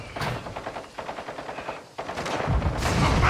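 Rapid automatic gunfire from a Call of Duty DMZ match, a loud run of bursts with short gaps, then a denser, heavier stretch of shots and explosions toward the end.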